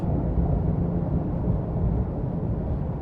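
A loud, steady low-pitched rumble of a non-turbo sports car engine driving under load up a canyon road, shifting up to fifth gear, continuous throughout with no talking.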